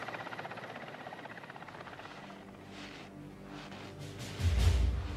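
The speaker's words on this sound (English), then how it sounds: "The helicopter races back to refuel." A helicopter flies over a snowy wilderness during a tiger capture, its rotor chop steady and moderately distant, then swelling louder and nearer toward the end.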